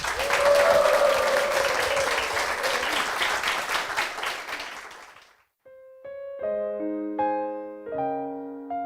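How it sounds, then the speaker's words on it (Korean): Loud, sustained applause from a large church congregation, dense clapping that fades away and gives way to soft piano notes. "뜨거운 박수 부탁드리겠습니다"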